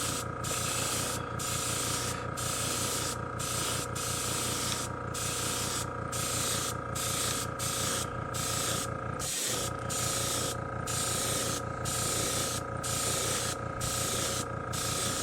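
An airbrush sprays a coat of paint onto a custom shad fishing lure with a steady, close hiss that runs throughout, pulsing regularly as the trigger is worked, with one brief pause partway through.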